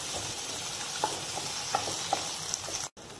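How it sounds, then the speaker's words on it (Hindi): Boiled potatoes fry lightly in a pan for a vrat-style jeera sabzi, a steady close sizzle with a few soft stirring scrapes and a brief cut-out near the end, no talking. "अब हम इसे हल्का सा भून लेते हैं"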